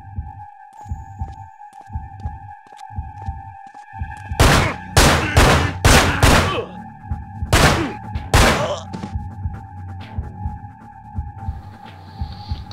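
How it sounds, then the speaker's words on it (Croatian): Gunfire in the video game Manhunt: a rapid cluster of loud sharp shots in two bursts mid-clip, over rhythmic low thudding and a steady electronic hum from the game; no talking. "To vidi da pucam što bolje mogu."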